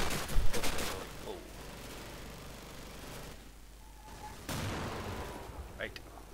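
Gunfire in the World War II shooter game Darkest Hour during an Omaha Beach battle, with a sharp burst of shots at the start and another volley later over a constant rumbling battlefield background.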